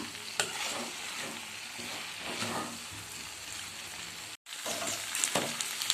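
Steady sizzling and crackling of spices tempering in hot oil for Gobi Manchurian, loud and continuous with a brief cut, plus occasional stirring scrapes.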